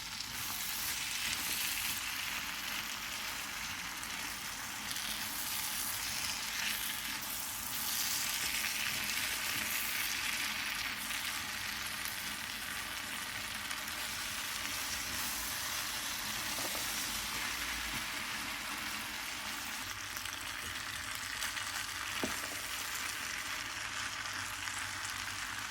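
Boiled potatoes and chickpeas sizzling in a pan for street-style chana chaat, a dense, even frying hiss that runs steadily throughout with occasional faint stirring sounds, close and alone.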